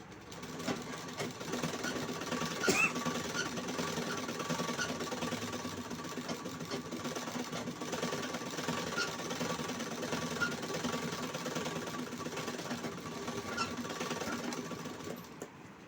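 Sewing machine stitching a straight seam on a blouse, a steady close mechanical whir and hum running nearly unbroken throughout, with no talking.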